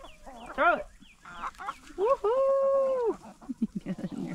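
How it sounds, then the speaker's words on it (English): Hens cluck and squawk close by in quick bursts, with one drawn-out call in the middle, then a run of short rapid clucks. "Chickens love this food."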